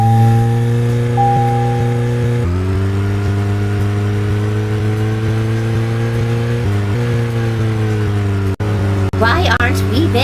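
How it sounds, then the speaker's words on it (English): A car engine in the Deadly Premonition game hums steadily, with its pitch stepping up as it accelerates and then holding at a constant drone for ten seconds, loud and continuous. "Now, get the car going."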